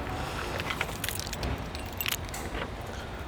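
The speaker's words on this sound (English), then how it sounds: "Just shove my keys in this bag." Keys jangle and clink in a few short metallic bursts as they are shoved into a bag, close by, over a soft rustling background.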